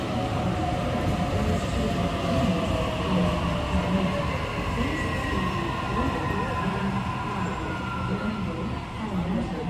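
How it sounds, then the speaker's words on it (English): A Sydney suburban train rolls round a bend at a station, a continuous loud rumble and rail hum with faint squealing wheel tones throughout, steady and fairly close. "Our train should still come round the bend, but on the opposite direction."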